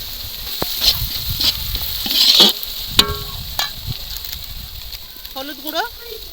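Onion and garlic paste sizzle in a pan at a picnic cookout, a hissing fry with scraping stir strokes and clanks, while someone talks over the cooking.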